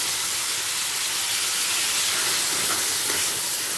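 Tomatoes dropped into hot oil with bay leaf and dried chilli, a loud continuous hissing sizzle close up, a couple of faint utensil clicks near the end, no speech.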